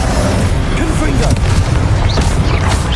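Confringo blasting spell from Hogwarts Legacy going off as a loud, close booming explosion amid combat effects and sparkling spell sounds, with a voice nearby.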